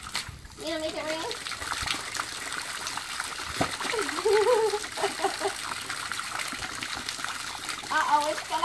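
Water gushes and splashes continuously into an overflowing pool, with a voice and an adult's talk over the flowing, sloshing water.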